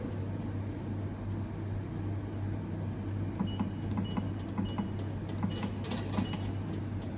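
A wire cutting and stripping machine runs with a steady low motor hum, then a series of quick mechanical clicks and ticks repeats over the last few seconds, faint and close.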